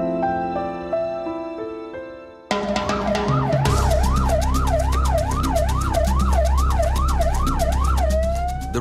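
A Red Cross ambulance siren on the Costa Blanca wails loud and close in rapid, steady rising-and-falling cycles over a deep engine rumble, following a few seconds of softer tonal music.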